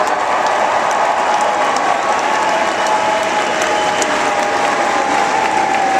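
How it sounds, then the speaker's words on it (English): Dense, sustained applause from a large indoor crowd at a presidential speech in Boulder fills the whole stretch, loud and even, with a few scattered cheers in it. "Give him a big round of applause for having me here."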